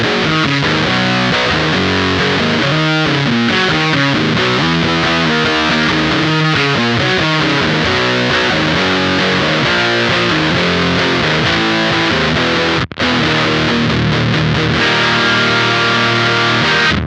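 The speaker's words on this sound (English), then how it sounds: "The Dunch from Champion Leccy is an overdrive, distortion, fuzz." Heavily distorted electric guitar through a Champion Leccy Dunch overdrive, distortion and fuzz pedal plays dense, saturated riffs continuously, loud and close, with a brief cutout near the end before resuming.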